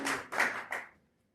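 Brief applause from a small podcast group, three short bursts of clapping close to the mic that fade quickly into silence, with no talk.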